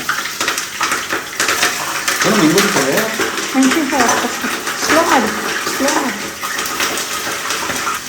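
Onions frying in hot oil in a pan for country-chicken (naati koli) biryani, a steady hissing sizzle running throughout while a person talks over it.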